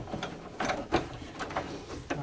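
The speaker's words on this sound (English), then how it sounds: "put the wrench on the nut and just hold it and then turn the leg" Steel wrench ratcheting and clicking against a nut while a wooden table leg is turned during a five-leg table restoration, a series of short mechanical clicks and scrapes at close range, fairly quiet, with no talk.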